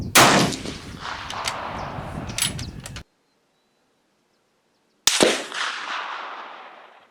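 Rifle gunshots at an outdoor shooting range: two loud, sharp reports about five seconds apart, each followed by a long rolling echo that fades out, with silence between them.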